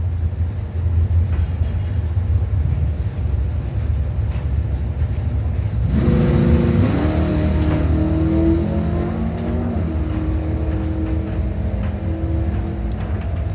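A drag race run between a Chevy S10 and an '85 Camaro, a steady loud engine rumble that erupts midway into hard acceleration with climbing gear-change tones, heard from trackside.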